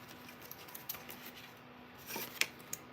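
Paper strip glued to another strip is snipped with scissors, a few quiet, brief cuts in a calm room with no talk.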